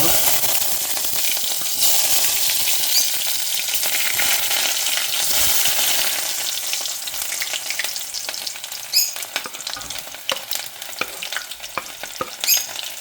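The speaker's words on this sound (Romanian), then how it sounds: "Bun, s-a încălzit uleiul, punem ceapa." Onion goes into heated oil in a pan and bursts into a loud, crackling sizzle that settles into steady frying, broken later by sharp clinks and scrapes of stirring.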